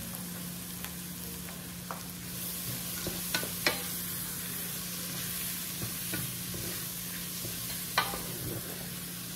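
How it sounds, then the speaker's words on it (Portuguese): Onion and garlic frying in a pan give a steady soft sizzle with a faint hum underneath and a few light clicks and stirring taps scattered throughout, with no talking. "já fritou aqui certinho, ó, a cebola, o alho"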